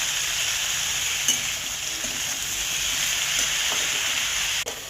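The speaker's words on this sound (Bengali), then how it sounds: "তেল দিয়ে এটা আমি একটু নাড়াচাড়া করে ভাজা ভাজা করে নেবো।" Chopped raw banana and eggplant fry in oil with salt and turmeric for a mixed-vegetable mustard chorchori, giving a steady, close sizzle with occasional clicks from stirring.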